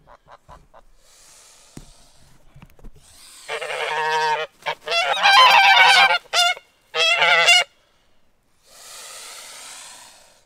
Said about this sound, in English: The geese have got me cornered in my own orchard.